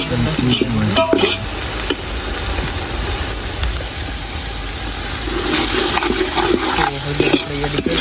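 Green pigeon peas with ginger and chillies being stirred in a pan for a Kathiawadi curry, with a steady scraping stir over a soft sizzle throughout, close and fairly loud, and no talk.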